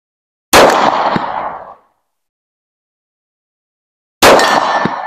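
Two sharp, loud gunshots at an outdoor shooting range, fired from a handgun fitted with a Cyelee CT 2 red dot optic, each blast ringing out briefly with a metallic clang from the target, separated by a few seconds of silence.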